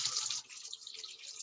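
A Zip Water tap dispenses chilled water in a short, steady, hissing stream close by, fairly quiet, with no talking.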